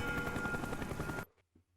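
A helicopter in the video game Black Ops drones with a dense, pulsing rotor rumble, loud and steady for just over a second before cutting off into near silence with faint low thumps.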